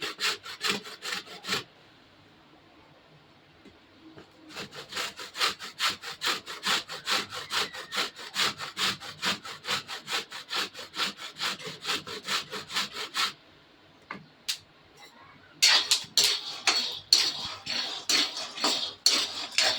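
Rhythmic back-and-forth rasping of an ingredient rubbed on a kitchen grater, fast regular strokes close by, pausing twice before resuming more vigorously.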